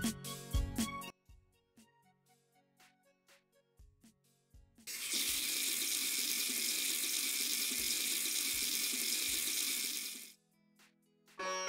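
A tap runs water steadily into a sink for about five seconds, a loud continuous broadband rush that stops abruptly, with sparse children's song music and tones before and after.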